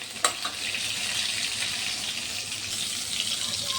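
Stuffed pointed gourd (potoler pur) frying in oil, a dense, even sizzle held close and steady after a brief clatter at the start, no speech.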